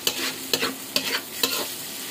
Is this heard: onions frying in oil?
yes